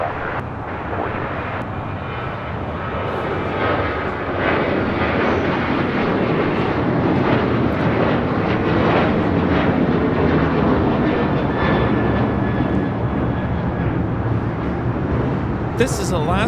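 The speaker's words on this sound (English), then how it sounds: "This is Alaska Airlines 1442 taking off to Zihuatanejo on a 737-900ER" An Alaska Airlines Boeing 737-900ER takes off at LAX, its jet engines roaring in a broad, steady rumble that holds for the whole stretch, with faint voices underneath.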